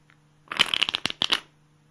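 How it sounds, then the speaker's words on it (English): Poker playing cards riffle-shuffled in the air, a quick burst of crisp overlapping flutters and snaps lasting about a second, close and clear with no voices. "you should be able to control the bottom cards from falling and be able to do an in-the-air riffle shuffle"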